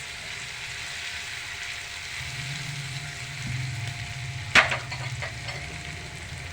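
Bell pepper is added to softening onion in a frying pan, raising a steady low sizzle. Partway through there is a sharp clink of a utensil against the pan, followed by brief stirring scrapes.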